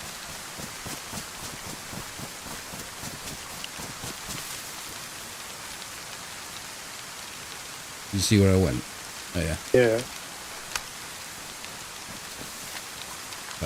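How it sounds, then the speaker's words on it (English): Steady in-game rain in DayZ hisses evenly throughout, with a couple of short voices talking briefly over it partway through. "That rain's loud."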